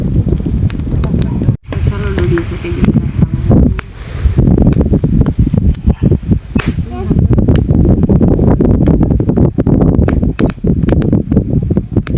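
Strong wind roars and buffets steadily throughout, with voices talking underneath and a brief drop-out near the start.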